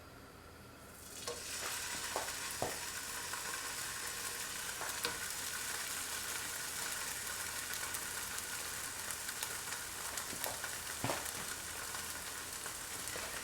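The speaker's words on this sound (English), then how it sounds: "So the first thing we're gonna do is fry our bologna." Bologna slices sizzle steadily in a hot pan, a loud constant crackle starting abruptly, with occasional sharp pops and scrapes.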